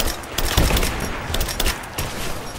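A rapid burst of gunfire from the video game Rise of the Tomb Raider fills the whole stretch, with dense overlapping shots and crackling reports during a combat firefight.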